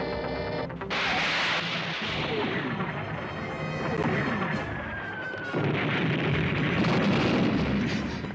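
An animated artillery bombardment pounds an island in a G.I. Joe cartoon, with dense, continuous rumbling explosions and booms that stay loud throughout and swell near the end.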